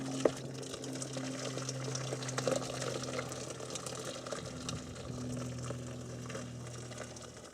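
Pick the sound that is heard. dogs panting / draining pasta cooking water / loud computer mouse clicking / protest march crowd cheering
draining pasta cooking water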